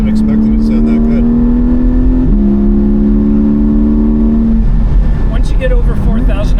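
Porsche Spyder engine revving loudly while driving, a steady harmonic drone that climbs in pitch, shifts at a gear change, then drops as revs fall, with faint talk over it.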